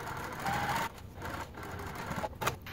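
A sewing machine stitches a seam on a crossover garment with a steady whirring run that stops abruptly, then gives way to quieter fabric handling and soft clicks.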